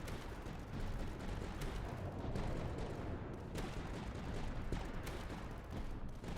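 Reaper Cannons in the tower-defense game Tower Dominion fire in a dense, continuous barrage of booming shots and rumbling impacts at steady loudness, with no voices.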